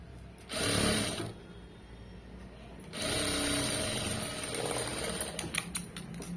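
A sewing machine stitches an invisible shape belt onto fabric in two loud bursts of rapid, steady whirring, separated by a brief quieter pause, with light handling noise as the run tapers off near the end.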